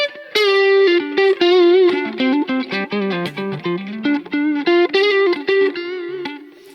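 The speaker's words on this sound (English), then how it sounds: "Do you hear the different texture and the different dynamic quality when I play with my fingers?" An overdriven electric guitar is plucked with bare fingers rather than a pick, a softer-edged, dynamic single-note phrase with distinct note attacks, playing alone and close.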